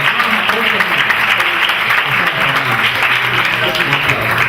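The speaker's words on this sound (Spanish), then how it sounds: "denme un aplauso a ella" Loud, dense applause from a church congregation welcoming a first-time visitor, a continuous steady roar of many hands clapping close by, with no voices over it.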